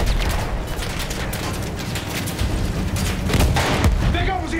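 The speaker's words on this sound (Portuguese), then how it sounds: "Artilharia!" Heavy artillery fire and explosions rumble continuously across a World War I battlefield in Battlefield 1, dense booms and distant gunfire layered under shouted voices.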